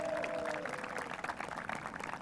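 Audience applauding at a commencement ceremony for a graduating class, a dense, steady wash of clapping from a crowd at moderate volume, continuous throughout.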